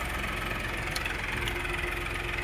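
A tractor engine idles with a steady, low mechanical chug that holds unchanged throughout at moderate distance, with no voices.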